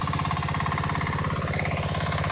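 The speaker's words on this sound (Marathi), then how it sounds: "पण ट्रॅक्टरने पटापट चिखल होता." A tractor engine works through mud in a flooded paddy field in Konkan, chugging with a steady, rapid, rattling beat that stays loud and close.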